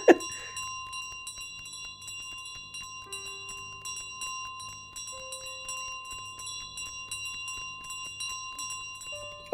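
A bell carried around by a goose in Untitled Goose Game rings repeatedly in quick, steady jingles over soft game ambience, with no talk.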